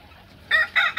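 Golden Misri hens on a Pakistani poultry farm give three loud, close squawking clucks in quick succession after a near-silent start.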